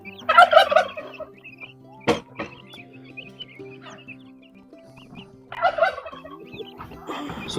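Turkeys gobble nearby on a farm in loud rattling bursts, with a sharp clank in between and quieter bird calls in the background.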